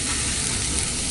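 Amaranth greens with moong dal being stir-fried in a pan, a dense, loud, unbroken sizzle heard close up in a brief burst.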